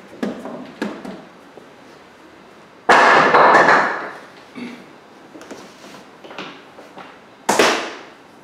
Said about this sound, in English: At this point, we can remove our temporary bracing.